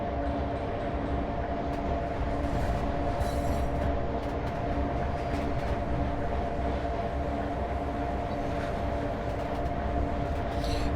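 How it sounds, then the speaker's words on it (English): An OEBB 1189 Krokodil electric locomotive runs on the Semmeringbahn route in Train Simulator, giving a steady, rumbling rolling drone with a sustained motor hum and occasional wheel-on-rail rattles, continuous and close with no voices. "It's the Semmeringbahn route, and it's the Croc Loco, which is on Marketplace."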